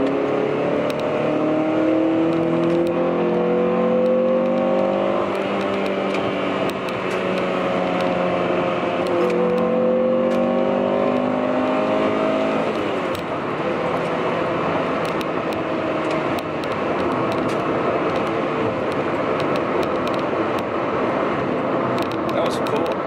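A fifth-generation Honda Prelude with a VTEC engine pulls hard in third gear, its engine note rising steadily in pitch over several seconds before easing off, loud and close, with continuous wind and road roar underneath.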